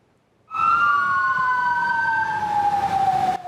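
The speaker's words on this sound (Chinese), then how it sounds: "消防车陆续到位" A fire engine siren starts abruptly and wails loudly at a building fire in Taichung, Taiwan, its tone slowly falling in a long sweep over rumbling city traffic.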